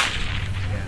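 A cowboy's roughly 11-foot whip worked fast in the Queensland Flash routine at a cowboy show, its cracks coming in quick, loud succession close by with no talking.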